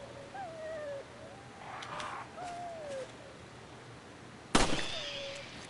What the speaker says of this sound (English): Oh, more birds.